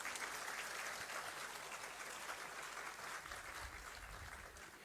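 Audience applause at an International Women's Day celebration and award event at Chandigarh University, a faint, steady spread of clapping from a large room that eases slightly toward the end, with a low rumble entering late.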